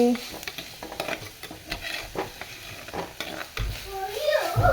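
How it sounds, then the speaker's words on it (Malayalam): Crushed ginger, green chilli and garlic being stirred into onions in a hot pan, with repeated spoon scrapes and clinks over a low sizzle, close and moderately loud, with a voice briefly heard. "ചതച്ച് വച്ചിരിക്കുന്ന ഇഞ്ചി പച്ചമുളക് വെളുത്തുള്ളി ഇതെല്ലാം കൂടെ ചേർത്ത് മിക്സ് ചെയ്യാം"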